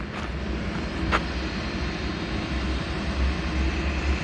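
A large airplane at an airport, its engines a low, steady distant rumble with faint high whine, heard alone without talking.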